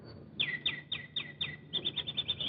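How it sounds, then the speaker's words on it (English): Small birds chirp in a quick run of bright, high tweets, about a dozen short calls in a steady rhythm over a soft background on a television variety show set. "Could we have a couple of birds there?"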